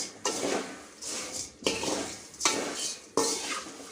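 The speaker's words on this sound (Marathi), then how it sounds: "आता लो फ्लेमवर आपल्याला कंटिन्यू फिरवत राहायचं आहे बघा अशा प्रकारे" A metal spoon stirs puffed rice chivda in a pan over a low flame, giving close, repeated scraping clinks in four bursts with no talk.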